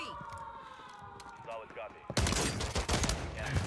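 Rapid shotgun blasts in Warzone 3, an M4 loadout nearby, crack out close and loud in a dense burst over game sirens and effects, with a voice talking under the noise.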